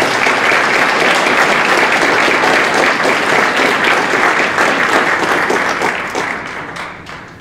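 A dense, loud round of applause fills a school auditorium at a high school honors night for recognized students. It holds steady for most of its length, then fades toward the end.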